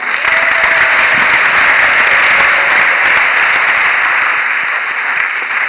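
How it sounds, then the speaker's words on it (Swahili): A church congregation applauds during a bishop's Jubilee-year service, a loud, dense wash of clapping that stays steady throughout and thins only slightly at the end. "Tumshukuru Mungu kwa kumpigia makofi."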